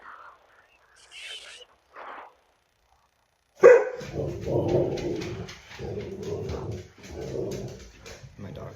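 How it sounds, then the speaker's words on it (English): A dog barks loudly and close, a sudden sharp bark followed by a run of rapid excited yaps and whimpering barks, after a quieter opening with a few faint sounds. "My dog's very passionate about this as well."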